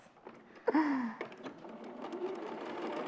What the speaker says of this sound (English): you'll notice I always try to sew from this side with the seams up